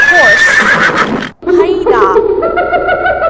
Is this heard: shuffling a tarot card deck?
no